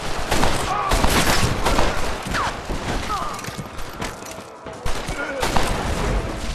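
Gunfire during a showdown in the western video game Red Dead Redemption, rapid overlapping shots and cracks in a loud, continuous fusillade, with shouts and voices mixed among the shots.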